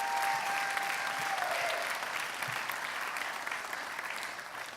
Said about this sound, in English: just join me in a quick round of applause